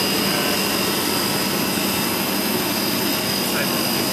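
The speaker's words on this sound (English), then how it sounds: "Running now. This is the one next to it. That's a replacement compressor." A replacement air-conditioning compressor, a CRJQ300TFB551 unit with one valve on a bit of pipe, hums steadily and loudly, a constant broadband drone with a faint high whine throughout.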